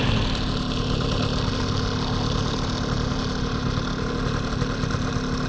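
A Puch moped engine idles steadily and close by, with a constant low putter that holds even from start to finish and no voices.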